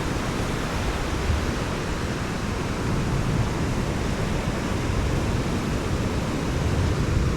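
Surf waves breaking on a beach, a loud, constant wash of roaring white water with no distinct individual breaks, steady throughout and free of voices.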